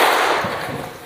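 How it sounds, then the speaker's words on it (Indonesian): A classroom audience gives a single sharp clap in unison, one loud burst at the start that quickly fades away, with no talk. "Kalau saya sebut uang tunai, tepuk 1 kali."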